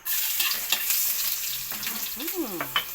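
Garlic sautés in hot cooking oil, giving a bright continuous sizzle with stirring scrapes over it and no talk.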